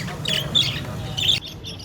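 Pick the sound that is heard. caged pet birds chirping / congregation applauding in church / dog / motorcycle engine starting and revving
caged pet birds chirping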